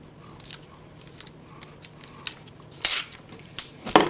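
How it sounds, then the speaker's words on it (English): Paper strips are being joined with tape for a paper conga craft, with short crinkly rips and crackles of tape and paper in irregular bursts, a few louder snaps near the end, close and fairly quiet. "and tape those together."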